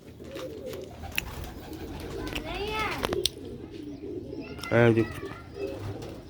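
Birds coo in a few short, soft rising calls with pigeons nearby, while a voice speaks briefly over a faint background; quail are kept with pigeons here.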